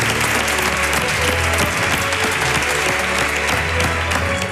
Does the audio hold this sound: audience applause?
yes